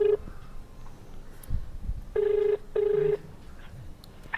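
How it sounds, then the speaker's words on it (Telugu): A mobile phone call is placed, with a short tone followed by two evenly spaced ringback tones, clear and close, with faint background noise between them. "ఫోన్ అయితే చేద్దాం"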